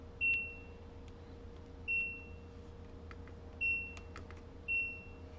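Dishwasher control panel giving four short, clear electronic beeps at roughly even intervals as buttons are pressed, over a low steady hum, no talking.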